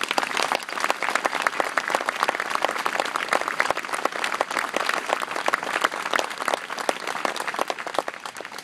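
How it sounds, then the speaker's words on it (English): Warm applause from a ceremony audience honors the ring donors for a class of 2012, dense and even clapping from many hands sustained for over eight seconds at moderate distance. "with a warm round of applause for their generosity"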